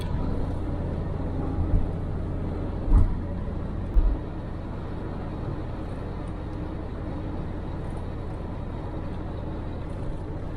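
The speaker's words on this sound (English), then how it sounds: "check out the pace of these cars going past me" Fast cars overtake on an uphill road while the recording car holds about 70, a broad steady roar of passing traffic and road noise with a few brief louder whooshes close by.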